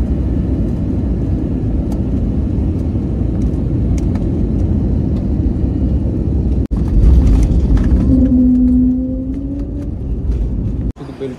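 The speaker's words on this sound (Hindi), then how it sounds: "अभी हम लोग जम्मू पर लैंड करने वाले हैं" IndiGo airliner landing at Jammu airport, heard from inside the cabin as a steady loud engine and airflow roar, with a heavier thud and rumble surge midway as the wheels meet the runway, then a brief tonal whine.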